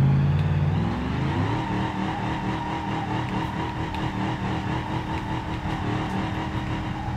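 Engine of a Gavril Grand Marshal drifting in BeamNG Drive, heard from inside the car: a loud, steady revving drone with a rise in pitch early on, then a throbbing, sustained note throughout.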